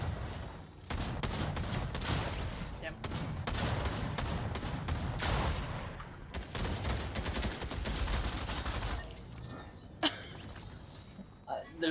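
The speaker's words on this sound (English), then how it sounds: "he's got a drum gun" A drum gun firing in a video game: long sustained bursts of rapid automatic gunfire with brief pauses, loud and continuous for most of the stretch, with a voice talking over it.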